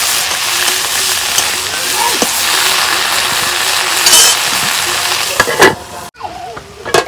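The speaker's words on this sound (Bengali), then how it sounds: "এই দেখো সিম ভাজা তেল দিয়ে খালি পানি দিয়ে যাই, সিদ্ধ হয়ে গেছে।" Flat beans cooking in a pan with oil sizzle steadily with stirring scrapes, and a few clinks and clatters near the end.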